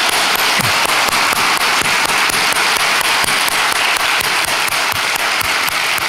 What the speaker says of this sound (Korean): 우리 다시 한번 뜨거운 박수로 격려하겠습니다